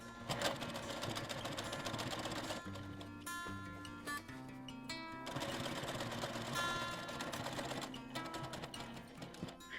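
A sewing machine stitches around the curves of a boho bag, a rapid mechanical clatter that runs in bursts with brief stops as the work turns, close and moderately quiet.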